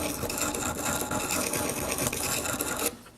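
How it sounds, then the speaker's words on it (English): Carving tool being sharpened on a sharpening stone, with a close, continuous gritty scraping and rubbing that rises and falls with each stroke, then cuts off near the end, no talk. "Now you can try on some of the sharpening stones."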